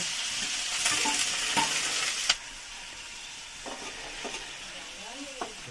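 Onion paste and curry leaves fry in hot oil and are stirred in a pan, giving a steady sizzle with a few scrapes and light clinks of the spoon against the pan.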